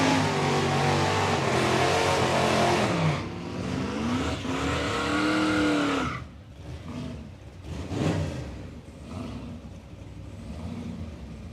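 Two big Fords, an F-series truck and a Bronco, roar off the line at a drag strip, engines revving loud and climbing through gears for several seconds before fading into a quieter distant rumble with a brief second surge.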